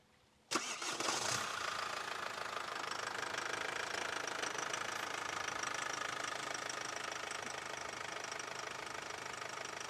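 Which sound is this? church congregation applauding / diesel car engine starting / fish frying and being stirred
diesel car engine starting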